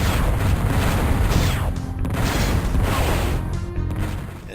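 Guns firing in the Descent shooter, Mars military dig level: a dense, continuous barrage of booming, crashing blasts that stays loud and steady throughout, with no talk over it.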